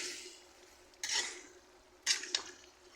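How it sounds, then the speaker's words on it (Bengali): Potatoes being stirred in a cooking pan, a soft frying sizzle broken by a few sharp scrapes and clinks of the spoon against the pan. "এখন আলুগুলো নেড়ে চেড়ে দিচ্ছি, ভালো করে মিক্স করে নিচ্ছি।"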